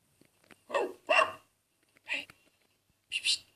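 A dog barking from Google's 3D animal search model gives four short, clear barks: two close together, then two more spaced apart, with near silence between them.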